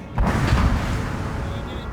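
Musket volley fire in the video game Napoleon: Total War, a dense rumbling burst of massed shots that swells early and then rolls on as a sustained battlefield din.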